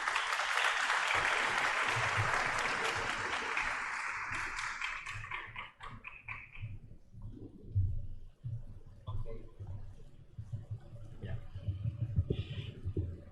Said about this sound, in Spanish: Un aplauso para el abogado Aicart, por favor.